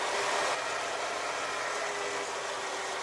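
A hot car engine idles steadily, a constant, fairly loud hum with broadband hiss that holds an even level throughout, with no talking.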